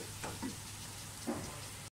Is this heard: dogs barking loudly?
no